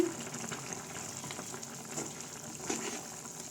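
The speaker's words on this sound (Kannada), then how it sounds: "ನೋಡ್ತಾ ಇದ್ದೀರಾ ಚೆನ್ನಾಗಿ ಕುದೀತಾ ಇದೆ ಅಂತ" Garlic chicken boiling in salted water in a pot, a steady close bubbling and hissing with an even, continuous wash of water noise.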